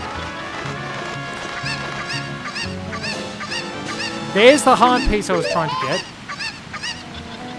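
A Cucco chicken in the Ocarina of Time video game squawks and clucks in a loud flurry over game music, while someone talks alongside.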